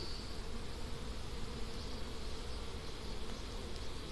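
Honey bees drone in a dense, continuous buzz during a beehive inspection, close and even throughout the short stretch, with no voices.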